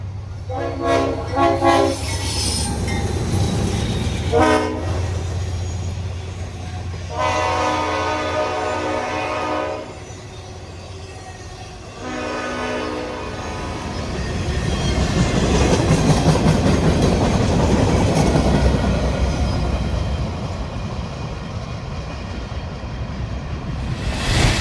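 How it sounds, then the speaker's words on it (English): A mixed Ayer to Portland freight train rolls through North Andover, Massachusetts, its horn blowing in several loud blasts before the steady rumble and rattle of passing cars fills the rest of the scene. "an Ayer to Portland train rolls through"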